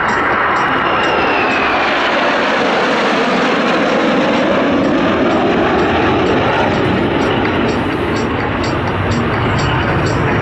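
F-5 Tiger fighter jets roar at an air show in a loud, steady, continuous rumble with a slowly shifting whine as they pass overhead.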